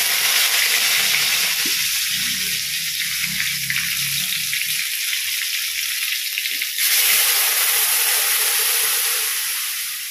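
Mustard seeds and grated coconut frying in a hot Chinese-style wok for chutney, a loud, steady sizzle and hiss close up throughout, briefly joined by low stirring sounds early on and a sharp surge in crackle partway through.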